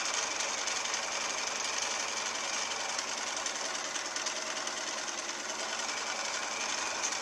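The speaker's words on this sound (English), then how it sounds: "I'm going to sew a 1/4 inch seam" A sewing machine runs a quarter-inch seam joining log cabin quilt pieces, a fast steady mechanical whir and needle rattle at close range, continuous and alone.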